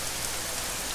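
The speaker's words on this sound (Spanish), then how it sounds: "Está lloviendo" Steady rain falls across the whole moment in ArmA 3, a dense, even hiss of drops hitting surfaces with no break and no voices.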